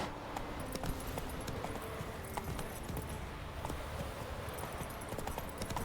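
Hooves of the horse Roach pound in a rapid, steady galloping rhythm across a video game landscape, close and continuous with light jingling of tack.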